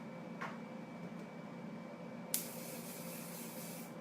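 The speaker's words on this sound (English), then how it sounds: "Just mist it lightly with the hairspray." A quick short burst of hairspray misted lightly onto hair for back-combing, one sharp hiss near the middle of a quiet room, with a faint earlier puff.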